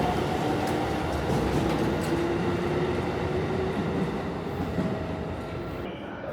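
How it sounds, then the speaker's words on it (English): A local train departs a station platform in Japan, rumbling and rolling past steadily with faint squeals and wheel noise, the sound gradually easing as it moves away. "let's see off the train that I got on"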